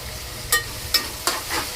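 Khichdi ingredients with turmeric being sautéed in a pan at home, heard as a few sharp scraping stirs against a soft sizzle, spaced out with quiet gaps between them and no talking.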